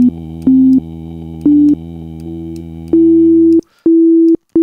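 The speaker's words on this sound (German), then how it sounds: "Und ich kann hier auf dieser Klaviatur, kann ich ein bisschen spielen." Clean, electronic-sounding notes are played on a virtual keyboard, a few short taps over a steady held tone, closing on sustained repeated notes. The sound is loud, bright and dry, with no speech.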